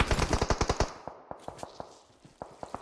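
Rapid burst of automatic gunfire in the battle royale game PUBG Mobile during a competitive women's esports match, about nine quick loud shots followed by scattered single shots and short bursts trailing off, no voices.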